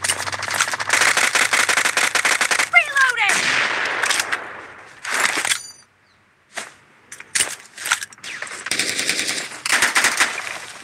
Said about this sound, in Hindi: यार ये गन बड़ी तगड़ी है यार, फायर रेट इसका बहुत है, डैमेज भी बहुत है